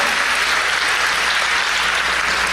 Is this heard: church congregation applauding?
yes